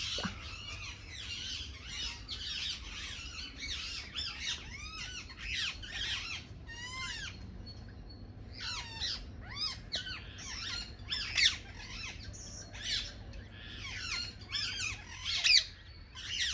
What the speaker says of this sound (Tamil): பயங்கரமா கிளிங்க சத்தம் போடுது